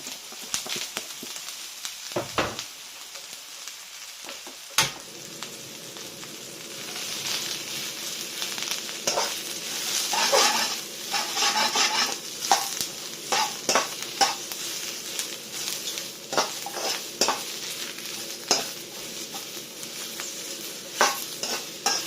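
Mushrooms and onions fry in oil in a wok for Shanghai noodles: a close, steady sizzle with repeated scraping tosses and sharp metallic clanks of the spatula against the pan.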